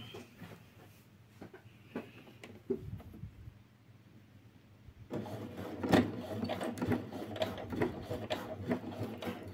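A sewing machine stitches a men's raglan hooded sweatshirt, soft at first with scattered clicks, then a fast, steady mechanical chatter running close and continuous through the second half.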